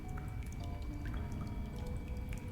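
Water running through a pipe in the Darkside Detective video game, a steady continuous rush and trickle with faint drips, alone and fairly close.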